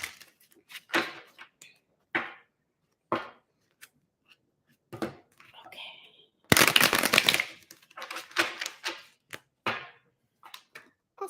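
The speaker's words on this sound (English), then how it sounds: "They said 2 more shuffles." Tarot cards are shuffled repeatedly with crisp riffles and soft slaps, in irregular bursts that swell into one longer, louder shuffle midway.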